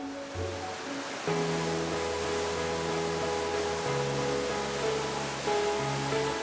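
Bidulginang waterfall on the Hantan River plunging through a basalt gorge, a steady, even roar of falling water with no voices.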